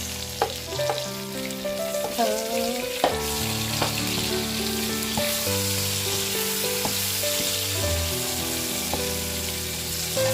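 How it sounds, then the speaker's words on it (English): Chinese sausage frying in oil for pancit guisado, a steady, close sizzle with spattering crackles, heard under background music with no talking. "So now I will put our Chinese sausage."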